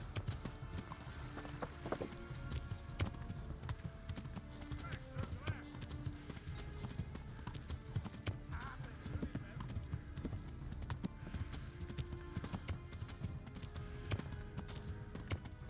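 Horse hooves clip-clopping steadily in the medieval video game Kingdom Come: Deliverance, a continuous rhythmic trot under game ambience while a person talks over it.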